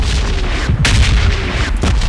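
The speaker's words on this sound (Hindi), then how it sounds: "देखो हमें गन साउंड आते हैं" Gunfire in a mobile battle-royale shooter game: heavy booming shots, one sharp loud blast near the middle and another toward the end, over a dense rumbling background.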